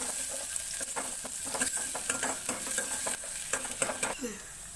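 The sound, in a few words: frying onions with cumin until brown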